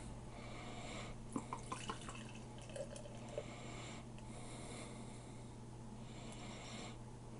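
Beer pours and gurgles into a glass nearby, with soft bubbling and fizzing, a few small clinks, and quiet background hiss.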